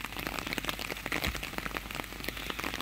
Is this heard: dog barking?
no